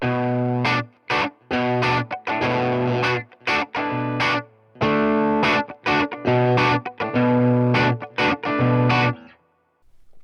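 Electric guitar through a Boss GE-7 graphic EQ pedal playing choppy strummed chords with a driven, effected tone, stopping and starting in bursts before ringing out into silence.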